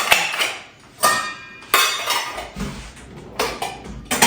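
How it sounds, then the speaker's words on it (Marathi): Dishes and cutlery clink and clatter as a dishwasher is unloaded at home, a series of sharp, close ceramic and metal knocks spaced irregularly, with quiet pauses between them. "हे जे डिशवॉशर घेतले ते आवरून घेते"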